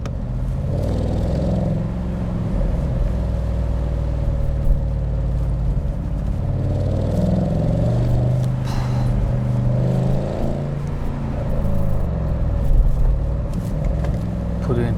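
A 2023 Audi S8's engine pulls hard under acceleration from inside the cabin, a loud steady drone that rises in pitch as the car speeds up, with someone talking over it.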